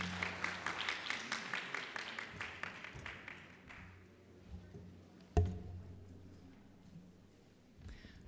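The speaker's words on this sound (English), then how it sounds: "Please give her a round of applause." A conference audience at a wound-healing symposium breaks into applause: a burst of rhythmic clapping that quickly tapers off and gives way to quiet room tone, with a single thump near the end.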